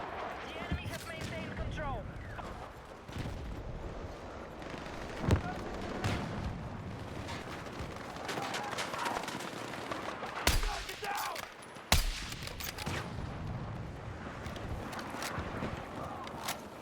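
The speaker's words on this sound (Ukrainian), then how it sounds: "Я не бачу, він там десь стріляє, я не бачу. Я бачу, що куля летить" Battlefield 6 Conquest gunfire on the Firestorm map, with repeated rifle and machine-gun bursts and several sharp loud shots at varied distances, under a player talking throughout.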